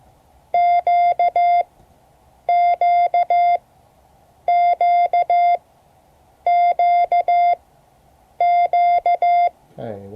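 Morse code tones sending the letter Q: a clear, loud pure tone keyed as long, long, short, long, repeated five times at even intervals, with silence between each letter.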